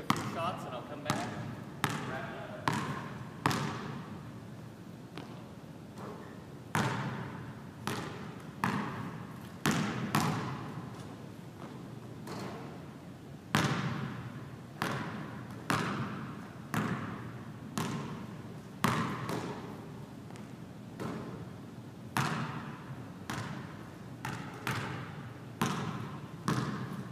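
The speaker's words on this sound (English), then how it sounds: "I'm going to dribble a little bit just so you can get a feel for the sound of the ball" A Wilson Evolution basketball dribbled repeatedly on a hard outdoor court, rhythmic bounces in bursts with short pauses, close and distinct.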